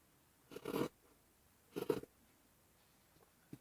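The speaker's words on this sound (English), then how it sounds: "I'm going to cut off the hem." Scissors cut the hem off a t-shirt sleeve in two short, close snips about a second apart, followed by a faint tick, all quiet with no talking.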